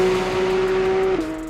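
A 2023 Porsche 911 GT3 RS with a big-bore naturally aspirated flat-six revs hard, a loud steady high-pitched engine wail that dips slightly near the end.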